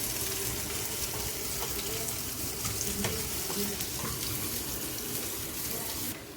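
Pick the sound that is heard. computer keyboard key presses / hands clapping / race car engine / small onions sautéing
small onions sautéing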